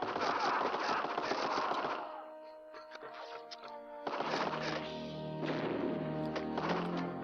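Gunfire and grenades in the Game Boy Advance video game Medal of Honor: Infiltrator: rapid, crunchy low-fi bursts of automatic fire, a brief lull with scattered pops, then more dense firing bursts.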